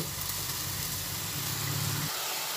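Katla fish curry simmering in a pan after a little water is added, giving a steady close sizzling and bubbling hiss that continues without pause and with no talk.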